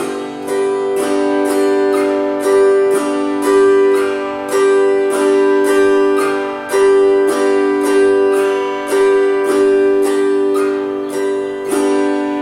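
Steady banjo picking in an even rhythm, bright plucked notes alternating bass and higher strings, loud and close, repeating the same pattern.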